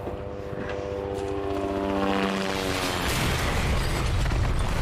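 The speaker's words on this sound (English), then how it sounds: "so the plane has just crashed" A plane crash in the video game Resident Evil 2 Remake: a steady, loud roar with a droning propeller-like hum that swells into a broad, rumbling impact noise continuing to the end, with no talking.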